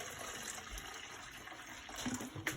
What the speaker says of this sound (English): I'm going to pour approximately a cup of bleach into here.